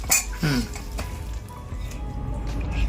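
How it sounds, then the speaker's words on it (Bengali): A metal ladle stirs tempering spices in a hot pan, with a couple of bright clinks against the pan over a faint, steady sizzle. "হাতা দিয়ে একটুখানি নেড়ে দিই।"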